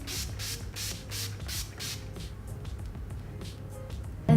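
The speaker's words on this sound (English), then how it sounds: "I'm just gonna spray the setting spray," Makeup setting spray misted onto the face in a rapid series of about eight short hissing pumps, close and steady, then quieter faint rustling to the end.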